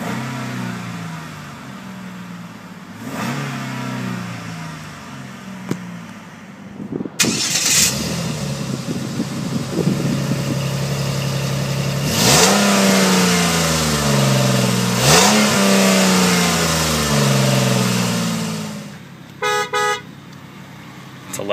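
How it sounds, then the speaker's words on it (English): Engine of a 2007 Dodge Nitro SLT revving loudly several times, each rise in pitch climbing and falling back to a steady idle, with a short horn-like toot near the end. "It's a good sounding motor."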